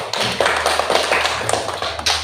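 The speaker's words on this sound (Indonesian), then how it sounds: "tepuk tangan untuk semuanya" A primary school class in an Indonesian classroom breaks into quick, dense applause, many hands clapping close together in a short burst lasting about two seconds.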